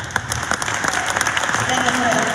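Brief burst of audience applause at a New Year's concert by a town wind band, dense clapping heard close and continuous with a voice faintly underneath.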